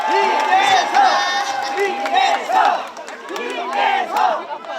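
A large crowd at a Korean trot concert cheers and shouts loudly and continuously, many voices whooping together in a lively swell.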